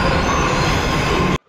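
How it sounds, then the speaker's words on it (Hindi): A Mumbai Metro train on the Line 2A and 7 route pulls into a station toward Andheri, a loud, steady rumble and rail hiss that fills the platform and cuts off abruptly near the end. "ये आ गई अंधेरी जाने के लिए ट्रेन"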